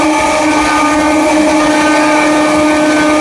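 An Amrit Bharat Express train at Prayagraj Junction gives a loud, close, sustained horn-like drone that holds steady the whole time, with rumbling rail noise underneath.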